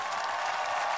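Studio audience applauding a hip-hop band on the X Factor Romania stage, a steady dense wash of clapping filling the whole moment without a break.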